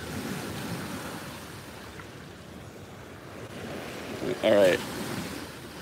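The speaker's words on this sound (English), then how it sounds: "there's a big wave" Ocean surf breaks and washes onto a shoreline during sturgeon fishing, a continuous loud roar with wind buffeting the microphone and a heavier wave surging near the end, while someone speaks briefly.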